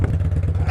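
Yamaha Bolt motorcycle engine running with no muffler, a brief burst of loud, raw, rapidly pulsing exhaust idle close to the microphone.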